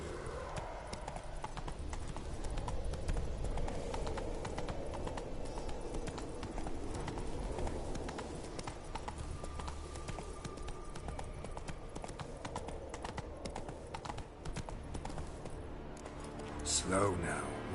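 Roach the horse gallops in Witcher 3, a fast, steady clip-clop of hooves running throughout alongside in-game ambience, with a rider's voice and a brief whinny-like burst near the end.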